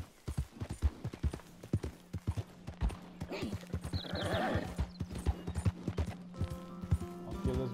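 Steady clip-clop of horse hooves at a walking pace in Red Dead Redemption 2, close and even, with a horse whinnying partway through and a faint tonal background.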